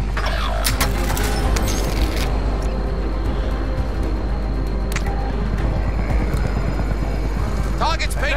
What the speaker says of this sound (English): Helo coming in for deposit.